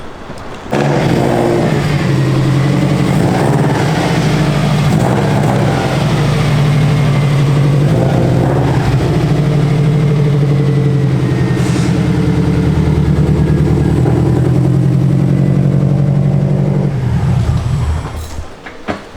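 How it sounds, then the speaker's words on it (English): A loud Subaru car engine idles and rumbles steadily up close, with a deep throaty drone that holds for a long stretch before cutting off. "She sounds nasty for a Subaru."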